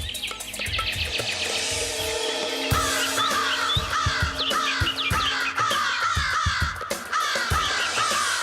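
Several crows caw loudly and repeatedly, harsh calls overlapping in a steady chorus with other birds chirping in the background.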